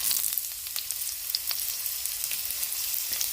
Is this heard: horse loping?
no